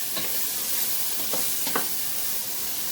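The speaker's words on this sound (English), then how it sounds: "Let's get this bacon. If y'all can see the bacon, I'm making bacon." Bacon strips sizzling in a frying pan with a steady crackling hiss, broken by a few brief spatters and pops, close up and with no talking.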